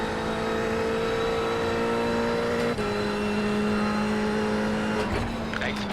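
Subaru Impreza engine droning steadily in a racing video game, a sustained loud motor tone with gear-shift steps in pitch partway through, while people talk over it.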